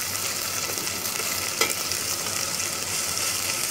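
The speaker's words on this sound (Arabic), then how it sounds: "هنزل ببصلاية صغيرة مقطعها مكعبات صغيرة بالشكل ده كده، وهقلب." Diced onion stirred in a pot of melted ghee, giving a steady, close, even frying sizzle that runs throughout with a brief scrape partway through; no voices.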